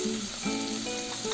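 Vegetables for pressure cooker moong dal khichdi fry in oil with a steady, dense sizzle, close and continuous, with faint stirring tones.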